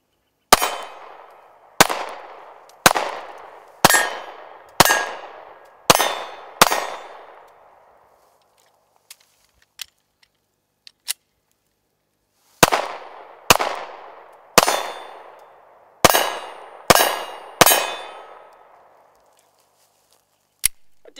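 A Glock 43 9mm pistol fires in two strings of about seven shots each. The shots are loud, close, sharp cracks with ringing tails, separated by a pause with a few faint clicks.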